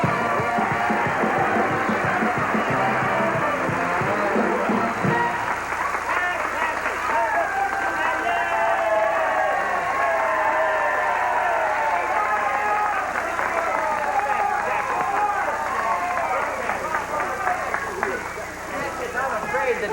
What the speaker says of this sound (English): That rousing applause has made us run out of time